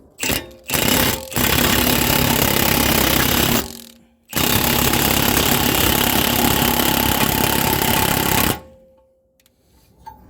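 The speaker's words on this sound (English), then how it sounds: "So I'm going to attempt to break this free by tightening up the bolt." An impact wrench hammering at a seized rear brake nut and bolt, 19 and 24 sizes, on a 2010 Toyota Corolla 1.8 during a drum-to-disc conversion: loud close rattling bursts, two short ones then two long sustained runs.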